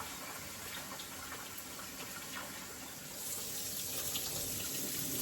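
Tap water runs steadily into a sink while rice is rinsed, a soft continuous splashing stream that grows slightly louder and fuller partway through, with no voices.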